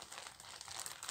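Plastic packet holding craft beads crinkled up close, a steady rustling and crackling with brief sharper crackles near the end, no voices.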